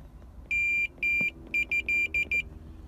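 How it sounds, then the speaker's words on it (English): A multimeter set to continuity gives a series of clear, piercing electronic beeps, two longer tones followed by five shorter ones in quick succession, while wiring for a wiper motor extension is tested. "Voltmeter is on the sound wave looking thing for continuity"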